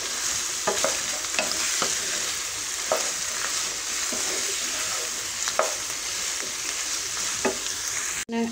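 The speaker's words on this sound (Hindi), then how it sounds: "हमने अच्छे तरीके से भिंडी और प्याज को मिक्स कर दिया है" Okra and onion stirred in a pan over low heat, a gentle continuous sizzle with spatula scrapes and taps at irregular intervals, close and moderately quiet, no voices.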